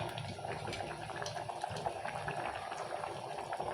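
A pot of spinach dal with ginger-garlic paste boils, making a faint, continuous bubbling and gurgling with a low rumble, steady throughout and without talking.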